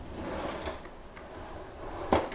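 Makeup storage drawer slid open with a short sharp thud near the end, preceded by faint rustling and handling in a quiet room.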